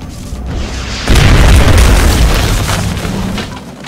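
A rocket blast in XCOM: Enemy Within lands as one loud, deep boom with a sudden onset, then rolls on as a sustained rumble that fades over several seconds.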